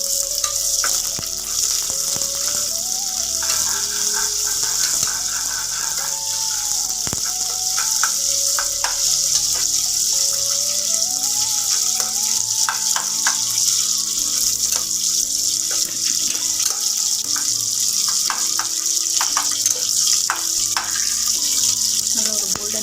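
Onions sautéing in oil for a mixed sprouts masala curry, a steady bright sizzle with scattered clinks and scraping of a utensil against the pan, continuous and close.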